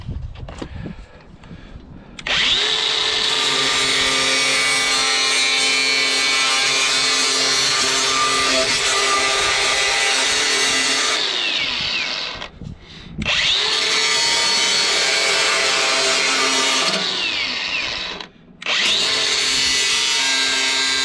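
An angle grinder cuts through a metal downspout in loud, sustained whining bursts, with two brief pauses where the disc spins down before biting back into the metal.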